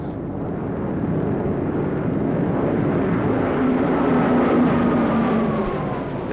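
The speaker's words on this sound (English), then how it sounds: "These are Japanese planes." Japanese warplanes of the Second World War fly overhead in a continuous, loud engine drone that swells and holds steady with no voices.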